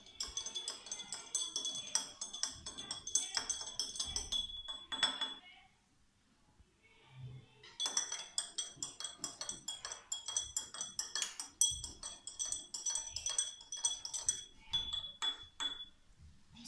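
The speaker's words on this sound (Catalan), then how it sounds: "I els barregem amb la cullera." A spoon clinks repeatedly against glasses while stirring coloured water, bright rhythmic tinkling in quick bursts, pausing briefly midway before resuming, with a voice talking faintly underneath.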